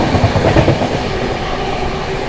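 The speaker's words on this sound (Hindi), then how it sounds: "दोस्तों ट्रेन अपनी स्किप करने जा रही है अलीगढ़ जंक्शन एंड ओवरटेक करने जा रहे हैं न्यू दिल्ली प्रयागराज एक्सप्रेस को।" Humsafar Express train running through Aligarh Junction at speed while overtaking another express, with loud, steady rolling rumble and rhythmic wheel clatter close by, no voices.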